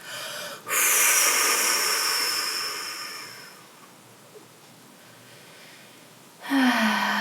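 Long, forceful breath exhaled during a guided relaxation breathing exercise: a loud, close hissing breath that fades over several seconds, then a quieter pause before another strong breath begins.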